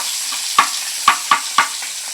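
Fish pieces frying in hot ghee, with a steady sizzle broken by four sharp crackling bursts as the food is stirred or shifted in the pan, close and fairly loud, with no talking.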